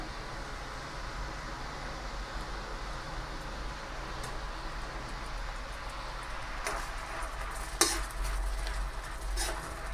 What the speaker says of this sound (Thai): ใส่พริกแกงเราลงไปผัดกับกะทิเลยจ้ะ